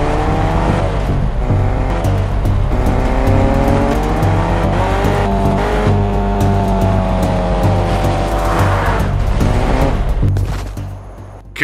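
A car in Fortnite revs and speeds away, its loud engine note rising and shifting through gears with tire noise, continuous and close throughout before easing off at the end.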